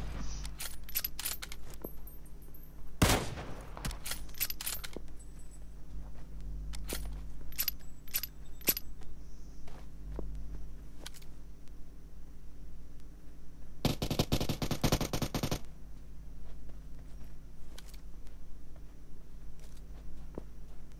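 Sporadic enemy gunfire in a video game: sharp broadband cracks scattered across the clip, with one loud shot near the start and a dense sustained burst in the middle, plus faint clicks and metallic rattles in between.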